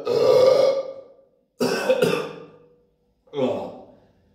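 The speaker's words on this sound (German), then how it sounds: "Mit dem Husten habe ich nicht gerechnet." A person coughs in three harsh bursts separated by short pauses, close and loud, with no talking, while downing cans of Red Bull.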